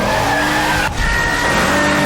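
A getaway car fleeing a cash robbery skids, its tires squealing loudly and continuously against a roaring engine, with a brief dip midway.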